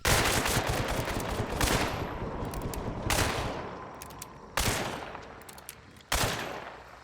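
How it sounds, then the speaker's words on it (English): Rapid fanning of a one-handed single-action pistol in the game Hunt: Showdown: loud, booming shots in quick succession with long reverberant tails, four or five distinct blasts over sustained echo. "This trait enables the hunter to fan one-handed single-action pistols."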